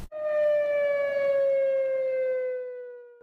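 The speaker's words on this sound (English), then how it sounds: "Sirens were heard across Montreal today." Montreal's annual industrial emergency siren test: a single sustained electronic siren tone, steady and loud, slowly sagging in pitch over a few seconds with no voices.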